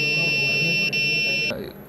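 An alarm buzzer on a robot built by polytechnic students goes off when an unauthorized card is used. It makes a steady, piercing electronic tone that cuts off near the end, over background room noise and voices.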